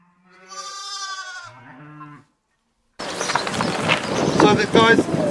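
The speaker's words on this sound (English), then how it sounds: "these are Romney sheep, right? They're meat sheep." Romney meat sheep bleat once in a drawn-out, wavering call on a New Zealand South Island farm, followed after a short gap by a busier stretch of noise with a voice.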